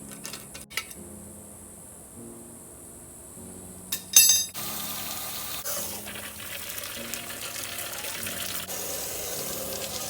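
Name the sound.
water hose washing out an engine block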